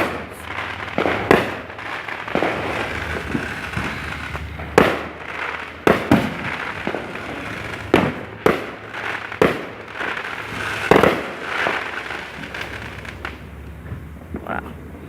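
Fourth of July fireworks go off in a string of sharp booms and cracking bursts, some close and loud, others farther off, spaced irregularly over a constant crackling background.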